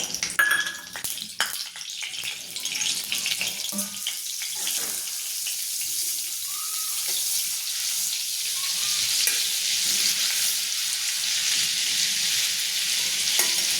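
Butter and two spoons of oil hissing in a pan for pav bhaji, starting with a few clanks and stirring scrapes, then settling into a steady bright sizzle that grows slightly louder, with no voices.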